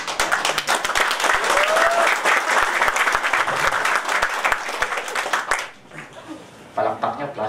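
Loud, dense audience applause fills a studio show, carrying steadily for several seconds with a voice faintly over it before thinning out abruptly near the end into quieter room sound and murmuring.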